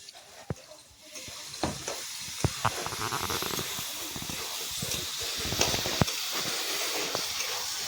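Water poured into a hot pan of frying chicken skin and taro sets off a sustained steamy hiss that swells after the first second, with scattered sharp crackles and spatula clicks close by.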